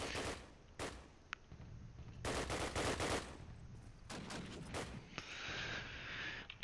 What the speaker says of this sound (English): And Burn team kills a choke with MG.